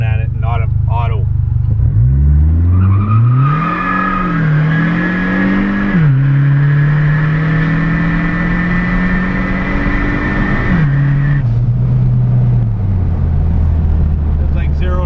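A 2006 PT Cruiser GT engine accelerating from a stop to about 75, revs climbing through several gear shifts with dips between them, loud and steady from inside the car, no talking over it.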